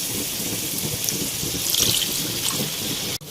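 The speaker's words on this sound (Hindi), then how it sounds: "यहाँ इसके अंदर मैंने थोड़ा सा पानी शामिल किया है।" Water pours steadily into a pot of chicken korma, making a continuous close splashing trickle that ends in a brief clunk, with no voices.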